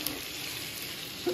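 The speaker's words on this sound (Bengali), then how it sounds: "ওই যে মশলার ভিতরে টমেটো দিয়ে দিছি, এই কষাবো" Tomato and spice masala sautéing in a pan for a fish curry, giving a steady, close sizzle that holds evenly throughout.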